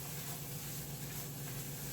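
Turnip greens cook in a hot pan with chorizo and a little oil, giving a faint, steady sizzle and hiss with a low hum beneath.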